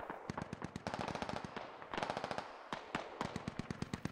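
A DShK heavy machine gun fires in the video game Squad, loud rapid bursts of shots with short pauses between them and no voices.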